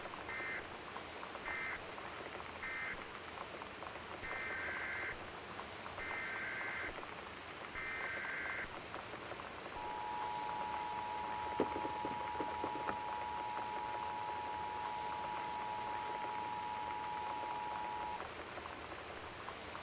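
Steady rain hisses through a storm in the game Gone Home, a constant close patter under faint electronic beeps and a long sustained tone.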